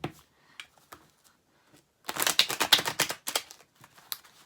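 A deck of tarot cards is shuffled by hand, a dense burst of quick papery riffling clicks lasting about two seconds, with a few softer shuffles after it and scattered light taps before it.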